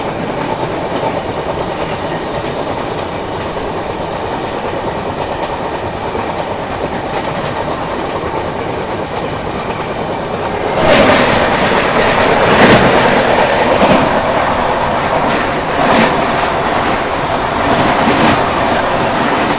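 Andhra Pradesh Express on Indian Railways crossing another Andhra Pradesh Express headed toward Delhi: a steady loud rumble of the moving train, then the other train passing close with a surge of rushing noise and rhythmic wheel clatter.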